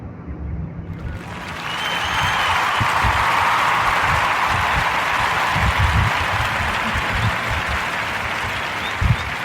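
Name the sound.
applause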